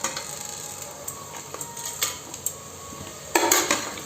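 Mutton and whole spices are stirred and fried in a pot, giving scattered metallic scrapes and clinks of a spoon against the vessel over a faint sizzle, with a louder burst of clattering near the end.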